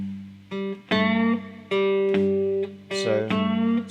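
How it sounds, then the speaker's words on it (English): A three-string cigar box guitar plays a slow, relaxed swung blues riff, with a loping long-short rhythm of plucked notes and short slides, close and clear with no talking. "exactly this that you've learnt, played swung, would sound like so."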